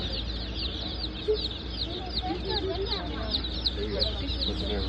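Rhode Island chicks cluck and peep in a busy, overlapping chorus. A steady low hum runs underneath, and a voice speaks faintly in the background.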